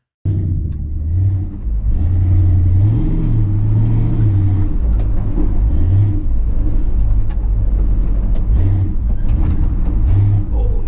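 A 1969 Dodge D100 Sweptline pickup runs a slalom, its engine rumbling loud and steady throughout, with revs rising and falling through the turns.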